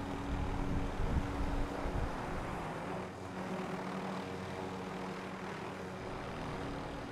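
Continuous rotor and engine drone of a helicopter in a video game, steady and fairly loud with a whooshing wind-like noise, no talking.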